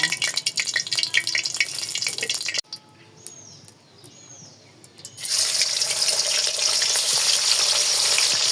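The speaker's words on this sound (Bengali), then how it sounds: "দেখেন এই যে মাংসটা না আমি একটু ভেজে নেবো" Meat fries in a pan with a loud, close, crackling sizzle that briefly drops to a faint hiss in the middle, then surges back even stronger and holds steady to the end.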